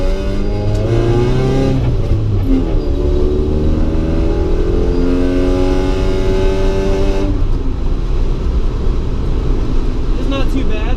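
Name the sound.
1990 Honda Civic on coilovers driving on smooth road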